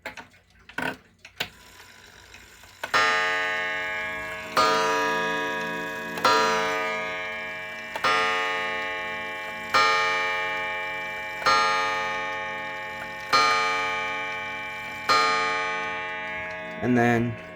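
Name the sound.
Vintage Centurion 35 day wall clock chiming the hour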